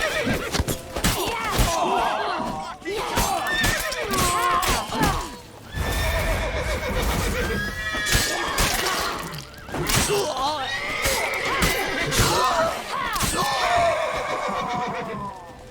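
Horses repeatedly neigh and whinny amid clattering hooves, crashes and shouting in a chaotic chase scene in the video game The Witcher 3: Wild Hunt on PC, the loud shrill calls recurring throughout against dense action noise.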